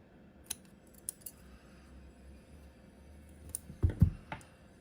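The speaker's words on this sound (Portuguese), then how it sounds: "já posso cortar o meu fio." Scissors snip through crochet yarn on a granny square: a few faint, sharp clicks spaced apart in a quiet room, then a louder close cluster of cuts and handling near the end.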